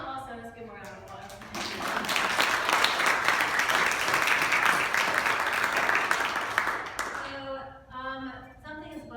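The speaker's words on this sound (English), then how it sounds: "let's give him a round of applause" Applause and clapping from an audience at an 80th birthday celebration rise into a dense, sustained wash of claps for several seconds, with talk before and after it.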